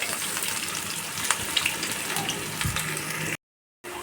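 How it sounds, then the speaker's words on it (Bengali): Chopped onions fry in hot oil with a loud, close, continuous crackling sizzle that cuts out completely for a moment near the end and then comes back. "প্রথমে পেঁয়াজগুলো দিয়ে আমি সুন্দর করে ভেজে নেব"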